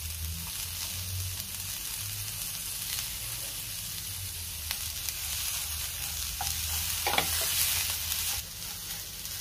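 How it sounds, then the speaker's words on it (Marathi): Tomatoes and coriander sauté in a pan with a steady close sizzle, low bubbling underneath and intermittent scraping stirs that grow busier toward the end, with no talking. "टोमॅटो आणि कोथिंबीर घातल्यावर मी पुन्हा 2 मिनिटं चांगलं परतून घेतले।"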